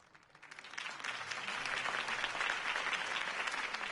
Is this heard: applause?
yes